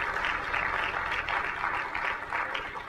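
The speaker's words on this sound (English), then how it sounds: "Give him a round of applause." A conference audience in Dallas, Texas gives a presenter a round of applause, steady overlapping clapping at moderate volume across the whole moment with no voices standing out.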